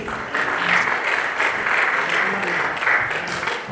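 Steady applause from an audience at a university signing ceremony, a dense, even wash of clapping held at constant loudness throughout.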